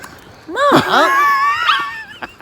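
A pug gives a few short, close whimpering yips that slide up and down in pitch, in a quick burst lasting about two seconds.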